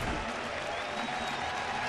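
A ballpark crowd applauds steadily for Gordon Beckham's major league debut at a baseball game, a dense continuous wash of clapping throughout.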